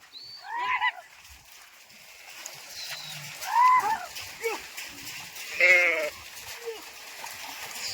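A flock of sheep standing by water after drinking bleats in scattered, separate calls, some near and loud, others fainter, with people talking in between.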